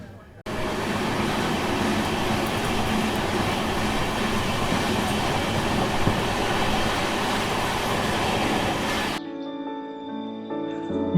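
A Jan Shatabdi Express rumbles loudly and continuously with rail clatter, heard from inside the glass-roofed Vistadome coach running as the last coach on the route from Dabhoi to Kevadia. The noise drops sharply near the end.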